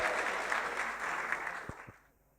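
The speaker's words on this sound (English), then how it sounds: "Let's give a massive cheer to Bruno Vincent, who's going to come and ta" A lecture audience at a public talk on the Copper Scroll of Qumran gives a burst of loud, dense applause that fades out over a couple of seconds, ending with a few last claps.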